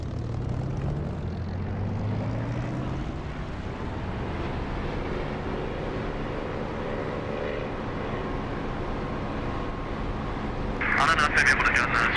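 Propeller aircraft engine in the DCS flight simulator, a steady loud drone at full throttle on takeoff that rises in pitch as the run builds, heard alone near the end.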